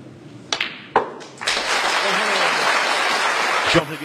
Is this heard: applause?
yes